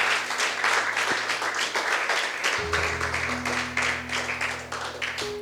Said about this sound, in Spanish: ¿Por qué no le regalamos fuertes palmas al Señor?